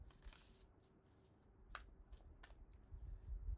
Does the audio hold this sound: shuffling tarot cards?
yes